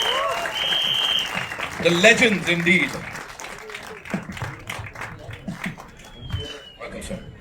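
At a film trailer launch, an audience applauds loudly and continuously while someone speaks over the clapping and a host talks through it.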